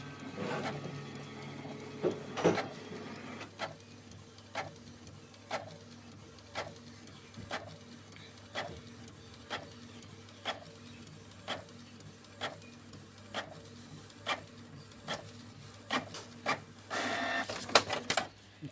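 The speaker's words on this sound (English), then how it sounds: "You can see now the machine copies so fine with no stress." A Canon G-series inkjet printer copies a page after a support code 5200 repair, giving a steady run of regular mechanical clicks about once a second over a soft motor hum, with busier whirring at the start and end.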